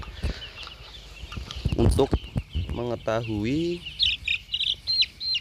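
Broiler chickens in a coop give short, high chirps and soft clucks, scattered and bunched toward the end, while someone talks nearby.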